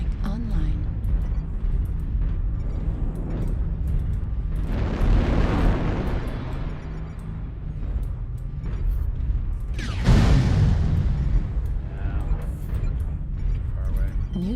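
Artillery strike explosions in a video game, two heavy booming blasts with long rumbling decays over continuous loud game noise and a voice talking.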